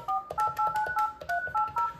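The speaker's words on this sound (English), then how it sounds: "So you dial the phone number." Touch-tone DTMF beeps from a Yealink T53 desk phone as a number is keyed in, about eight short, evenly spaced dual-pitch tones in quick succession, close and clear with no talking.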